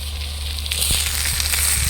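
Onions hit a hot pan and begin to crackle and sizzle, the hiss swelling partway through with light scraping.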